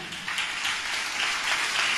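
An audience applauds at a church gathering with steady, dense clapping that sounds somewhat distant and fairly faint, with no talking over it.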